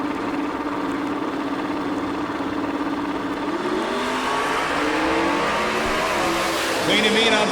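Drag racing cars launching down the strip at a heads-up nationals event, a loud sustained engine roar that rises in pitch as they accelerate away, with an announcer's voice over it.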